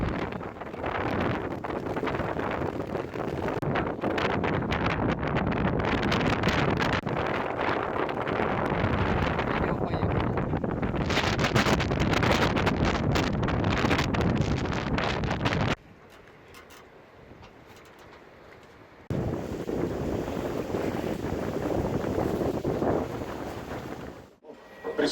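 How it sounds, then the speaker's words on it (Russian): A sailing yacht with its sails down motors against the wind toward shore, heard as a strong roar of wind buffeting the microphone over engine and water noise, with a quieter lull near the end. "Убираем паруса и ломимся против ветра на моторе к берегу."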